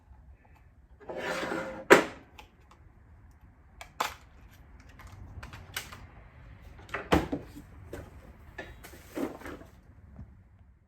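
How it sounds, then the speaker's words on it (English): Nails hammered into wooden picture frame pieces: a few sharp, close taps and knocks spaced seconds apart, with a short scraping rub and quiet handling noise between them. "We'll nail these all together"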